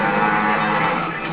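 Cattle that escaped onto a crowded downtown freeway after their 16-ton transport trailer flipped give a loud, sustained moo that fills the whole moment without any talking.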